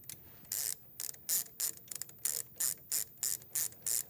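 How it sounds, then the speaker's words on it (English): A socket wrench ratchets in close, crisp bursts of clicking, about ten evenly spaced strokes, while tightening the group restrictor of a Sanremo espresso machine with a 7 socket. "Once that happens, you can do the rest with the 7 socket set."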